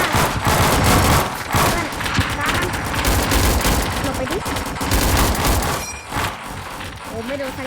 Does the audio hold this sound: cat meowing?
no